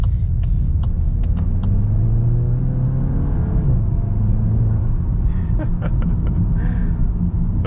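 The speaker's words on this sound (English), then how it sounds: "taking off in the GTI" A 2022 VW Golf GTI pulling away in S mode, its engine note a close, steady rumble that rises in pitch, settles, and climbs again, with faint clicks and brief noises on top.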